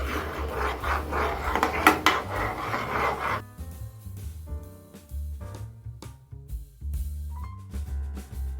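Coconut pudding mixture being stirred in a pan over a flame: a dense, rough scraping of spoon against pan for about three seconds, then it stops and soft background music carries on.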